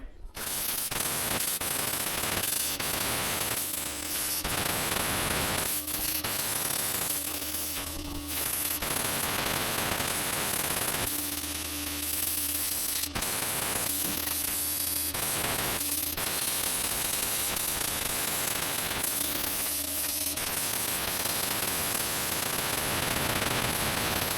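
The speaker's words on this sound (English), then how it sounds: "I'm using my good old school Hypertherm PowerMax 45. It's more than capable of cutting this stuff out." A Hypertherm Powermax 45 plasma cutter cuts through metal during a Fecon FMX36 mulcher repair, a loud, steady, hissing roar that pulses and changes tone as the torch moves, with a faint hum beneath.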